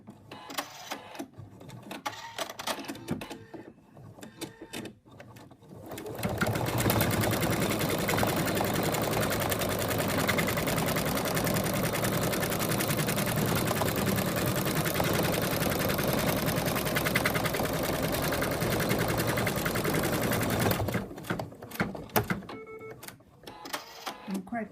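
An embroidery sewing machine stitches an in-the-hoop zipped ladybug purse, running loud and steady for about fifteen seconds with a dense mechanical whirr, with quieter handling sounds before and after.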